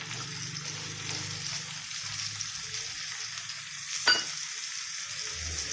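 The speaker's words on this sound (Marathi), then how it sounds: "याला थोड्या वेळ चांगलं फ्राय करून घ्यायचं आहे" Red pumpkin and drumstick pods fry in a pan, a soft steady sizzle with a brief sharp clink partway through and faint low stirring sounds.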